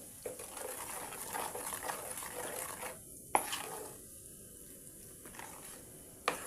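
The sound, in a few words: stirring spice powder into prawn pickle mixture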